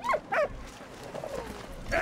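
Dog barking and whimpering in the video game Valiant Hearts, a few short yelping barks near the start and a whine at the end, with quieter game sounds between.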